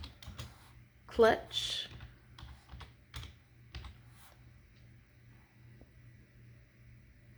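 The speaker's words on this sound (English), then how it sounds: "if you go in the search box and type in pebble" Keys on a computer keyboard are tapped in a short, quick burst of clicks to enter a search, close and soft over a low electrical hum, with a brief spoken word.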